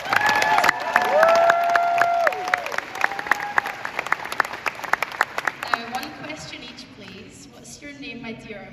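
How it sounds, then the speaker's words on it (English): Applause and cheering from a convention crowd at a Daredevil Q&A panel at Galaxycon 2023, with loud clapping and shouts that gradually thin out, voices talking faintly toward the end. "So one more round of applause,"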